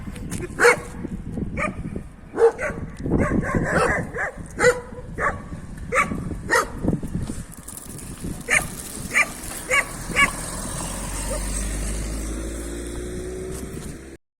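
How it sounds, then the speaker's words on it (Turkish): Street dogs bark repeatedly in sharp, uneven bursts, loud and close, with a few overlapping yips. The barking thins out as a low engine rumble rises. "Gerçekten sert bir köpek"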